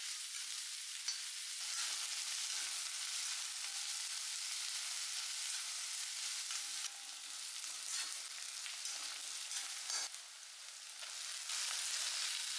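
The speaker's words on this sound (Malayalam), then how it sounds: "വെളിച്ചെണ്ണ ചൂടായി, നമ്മൾ ഉള്ളി, പച്ചമുളക് അതങ്ങ് വഴറ്റിയെടുക്കാം." Onion and green chilli sautéing in hot coconut oil, a bright continuous sizzle with a few stirring scrapes, close and steady with brief dips, and no talking.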